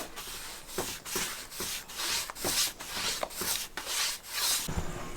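A brush rubs varnish thinly into a wooden ceiling in a stone house, with steady back-and-forth strokes about twice per second, close and scratchy.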